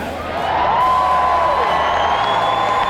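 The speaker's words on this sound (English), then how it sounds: "The crowd is wild" A concert crowd in Milwaukee at Harley Homecoming cheers loudly as the performer takes the stage, a dense steady roar of voices and whoops with a sustained tone running through it, close and loud throughout.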